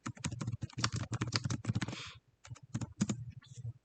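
Rapid clattering keystrokes on a computer keyboard while a layer name is typed in design software, a close dense burst, a short pause, then a few more taps.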